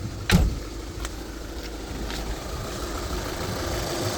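A 2012 Volkswagen Golf engine with 220,000 of mileage idles steadily with a low, even rumble, broken by a brief clunk near the start and a few faint clicks.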